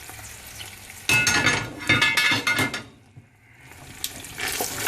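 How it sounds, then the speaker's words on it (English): A wooden spoon stirs and scrapes tomato-paste meat gravy in oil in a pot, bursts of sizzling and scraping strokes, then a near-silent pause before the sizzle returns. "scrape off all those residuals from the bottom"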